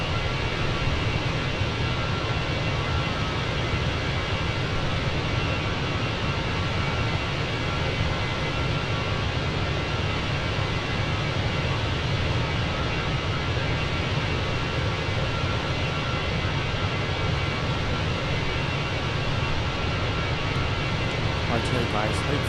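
Steady, unbroken roar of an Airbus A321 cabin in cruise flight, a dense broadband engine and airflow drone holding at constant loudness throughout.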